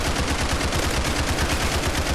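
Sustained rapid automatic AK rifle fire in the Roblox game Criminality, a dense, loud, continuous burst of shots with no talking.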